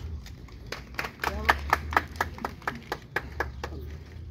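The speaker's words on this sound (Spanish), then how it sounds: "Fuerte aplauso a San Juan de Dios." Applause in a church after a priest's final blessing for San Juan de Dios: scattered, irregular hand claps from a congregation, moderately close, over a low background hum.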